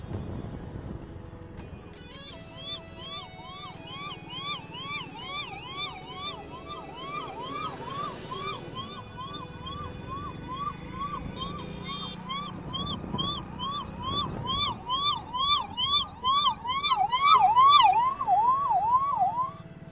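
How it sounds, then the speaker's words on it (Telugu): A wailing ambulance siren rises and falls steadily behind road traffic noise, approaching from behind a moving 125cc motorcycle, growing louder and closer over time. "వెనుక అంబులెన్స్ వస్తుంది."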